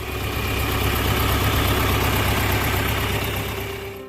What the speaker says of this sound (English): The John Deere 3020 Diesel.